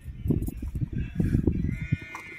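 Sheep or other livestock in a village bleat in several short, fairly quiet calls, with faint background voices.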